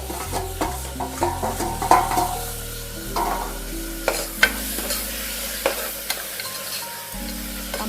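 Onion and tomato frying in a pan, with a steady close sizzle broken by repeated stirring scrapes and clinks of a utensil and no voices.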